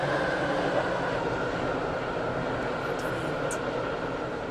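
A train rolls into a station in a Roblox-style Stepford Connect train game, a steady loud rumble of wheels and engine holding throughout with no pause.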